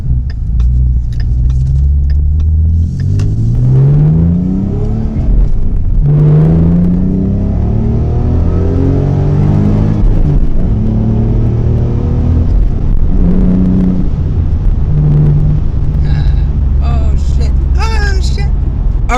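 A manual Ford Mustang S550 with a 3.7-liter V6 making 305 horsepower runs through several hard acceleration pulls. Its engine note climbs and drops again between gear changes, loud and close throughout.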